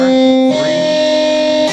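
Sustained electric guitar notes from a song ring out loud and clear, one held chord shifting into another after half a second.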